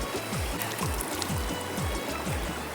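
A mountain river flows in a continuous broad rush of water, with a repeating low gurgling pulse underneath, steady and fairly close.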